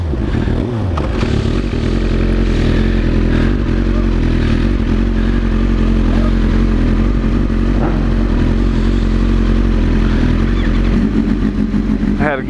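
A motorcycle engine drones loudly and steadily from close range while riding on the street during a Halloween group wheelie ride in Columbus, with wind rush and rattle, and a rider talks over it.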